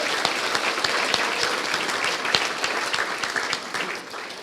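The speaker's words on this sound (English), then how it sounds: "Could we have a round of applause for all our recipients?" Audience applause for award recipients at a high school sports, cultural and senior prizegiving: dense, steady clapping from a large crowd that carries on without a break and eases off slightly near the end.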